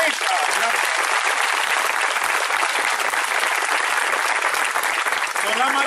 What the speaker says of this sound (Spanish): Aplausos a Santa Rita.